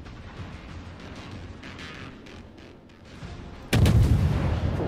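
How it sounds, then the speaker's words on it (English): Naval guns on a warship in World of Warships fire a salvo, arriving as a sudden loud boom after a stretch of low engine and sea rumble, then a sustained roaring tail. "Alright, prepare the fire."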